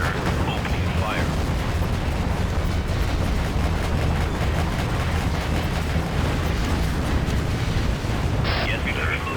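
In a strategy video game, an Apache attack helicopter opens fire, bringing a steady, loud roar of rumbling explosions and gunfire that barely lets up, with brief radio-style unit voice lines mixed in.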